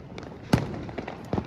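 Diwali firecrackers in Bhavnagar burst in a few sharp, scattered pops at a moderate distance over faint background noise.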